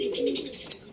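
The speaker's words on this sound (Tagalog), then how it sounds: "Tingnan natin kung dudulo tong kalapati na to." A pigeon, a lost homing bird that keeps failing to find its way home, gives a short, close, soft cooing call, heard alone.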